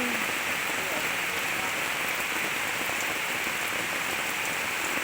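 Heavy rain pours down in a forest at night, a dense, even hiss of drops drumming on surfaces without letup.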